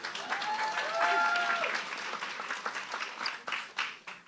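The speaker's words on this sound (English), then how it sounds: "Give yourselves a round of applause." An audience at a global artivism convention in Salvador, Bahia, Brazil bursts into applause, a dense wash of clapping that swells and then thins out, with a few cheers faintly heard.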